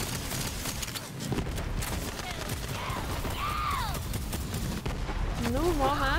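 Gunfire in the video game Borderlands 3 during co-op play, rapid shots and explosions over a dense game soundscape, mixed with players talking excitedly.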